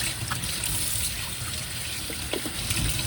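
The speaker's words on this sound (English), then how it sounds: "So I'm going to discard all this so that I can rinse my potatoes." Peeled potatoes are rinsed under a running kitchen tap, a steady close splashing trickle of water that holds evenly throughout.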